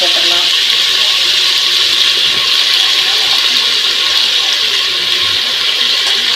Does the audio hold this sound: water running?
yes